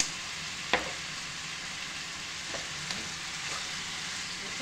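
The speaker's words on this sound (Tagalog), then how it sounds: "Isangkutsa natin yan hanggang sa mag-brown" Chicken pieces sizzle steadily in a pan as they brown. The frying hiss is constant and moderately quiet, with a few sharp clinks and stirring taps. Nobody talks.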